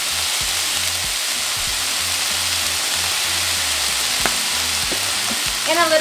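Ground beef fries in a pan, a loud, steady sizzle close up, with scraping knocks and clatters from a utensil as the meat is stirred and broken apart.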